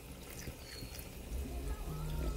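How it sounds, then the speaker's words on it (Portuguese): A little water poured into a pot of free-range chicken being cooked for lunch: a soft, steady trickle, faint and close, with no talking. "agora eu vou colocar só um pouquinho d'água"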